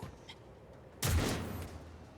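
A single loud burst of video game gunfire erupts partway through, a sharp crack that trails off over about a second, set against quiet background ambience with no talking.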